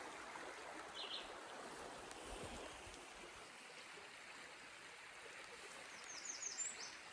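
A river flows steadily on a cold morning hike, a soft, continuous wash of moving water heard at a distance, with faint bird chirps scattered above it.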